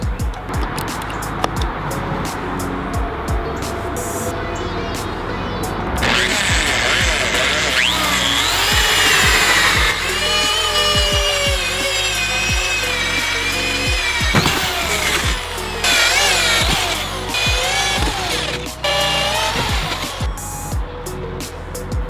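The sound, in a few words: electric drill drilling holes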